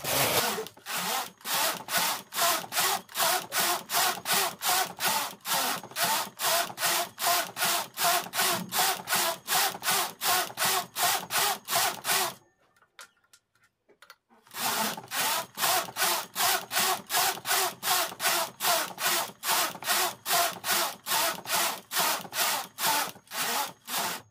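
A knitting machine carriage sweeps back and forth across gent's woollen sock stitches, a loud steady rasping rhythm of fast repeated strokes that pauses briefly midway and then resumes.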